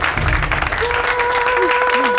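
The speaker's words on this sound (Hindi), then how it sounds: "एक बार जोरदार तालियां" Brief applause from an audience at a staged Bhojpuri game-show event, a busy patter of clapping with a few faint tonal sounds and murmurs underneath during the short burst.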